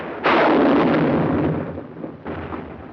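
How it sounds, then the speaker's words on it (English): Artillery fire in a 1945 World War II battle near San Pietro, Italy: a heavy boom with a long rumbling decay, followed by a second, weaker blast, loud with no talk. "Our own artillery was brought to fall within 100 yards of our front-line elements."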